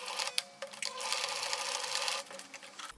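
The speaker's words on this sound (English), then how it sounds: "I'm going to be sewing just this bit, 1 centimeter from the edge" Sewing machine stitching a blouse seam one centimeter from the fabric edge: a close, steady motor hum with rapid needle chatter running for about two seconds between brief handling noises.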